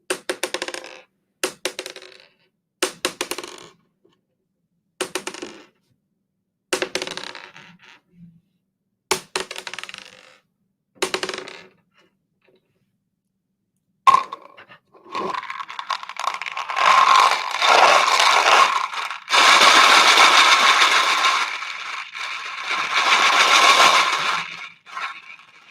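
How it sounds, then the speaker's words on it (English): Dried beans dropped into containers: several short sparse rattling clusters with pauses, then a longer dense pouring rattle that swells and fades, close and fairly loud. "Let's try dropping some beans."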